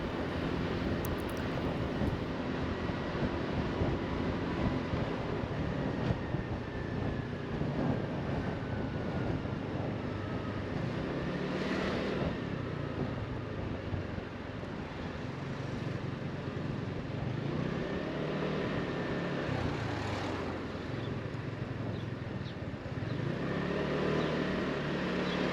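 Lexmoto Diablo motorcycle engine on a test ride, a steady continuous drone with rising and falling throttle sweeps, heavy wind rush over the microphone throughout.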